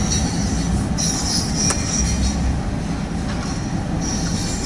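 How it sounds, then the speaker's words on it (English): Westbound double-stack freight train on Main 1 of the Harrisburg line rumbling steadily past up close, loud and continuous, with wheel squeal and rail clatter throughout and no voices. "it's westbound stacker on Main 1 here on the Harrisburg line"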